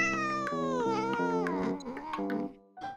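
A sick cat lets out a long, loud, drawn-out meow close by, wavering and harmonic-rich, falling in pitch and breaking into rougher tones before a short second call at the end.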